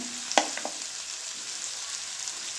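Onion masala for masala dosa, with salt, cumin and garam masala, frying in a pan: a soft, steady sizzle with a sharp spoon clink and a couple of scraping stirs near the start.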